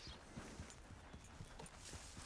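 A horse walking in the video game Red Dead Redemption 2, its hooves clip-clopping in a soft, steady rhythm, faint under a broad wash of ambient noise.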